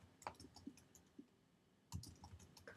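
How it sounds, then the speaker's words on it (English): Typing on a computer keyboard gives a few quiet, sparse key clicks in two short bursts with a pause between. "get my keyboard going here"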